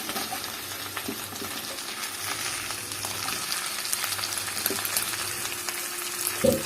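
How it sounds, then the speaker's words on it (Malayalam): Sliced mushrooms sauté with ginger and garlic in a hot pan, giving a steady, gentle sizzle with occasional stirring clicks, close and fairly quiet, no talking. "ഈ മഷ്റൂം ഇതിൽ കിടന്ന് നമുക്ക് ഒന്ന് വേവിച്ചെടുക്കണം."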